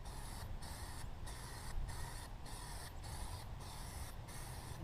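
Aerosol can of Plasti Dip spraying rubber coating onto car wheels: a steady close hiss in repeated bursts, with short regular gaps as the nozzle is released between passes.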